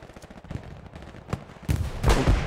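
Gunfire in a sniping video game: a few sharp distant-sounding shots, then two louder, heavier blasts close together at the end, no talk.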